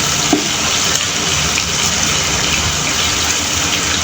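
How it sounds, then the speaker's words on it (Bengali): A cup of chopped onions fries in hot oil in a pan as it is stirred, giving a loud, steady, unbroken hiss throughout. "এখন আমি এই পেঁয়াজটা ভালোভাবে নেড়ে চেড়ে ভেজে নেব।"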